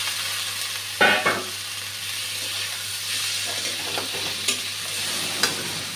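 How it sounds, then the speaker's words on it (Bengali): Pieces of katla fish fry in a pan with tomato and onion, giving a steady sizzle broken by a couple of sharp clattering stirs early on and a few lighter scrapes later, with no talking. "টমেটো আর পেঁয়াজটা প্রায় ভাজা হয়ে এসছে, এখন মাছগুলো দিয়ে দিচ্ছি।"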